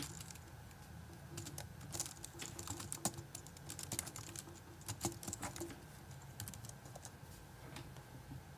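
Quiet, rapid tapping on a computer keyboard runs steadily over a low background hum, with no voices.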